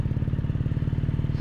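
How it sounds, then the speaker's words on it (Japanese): Scooter engine passing close by on a narrow road during a motorcycle touring ride, a loud, steady, rapidly pulsing putter that stays strong for the brief moment heard. "スクーターや。"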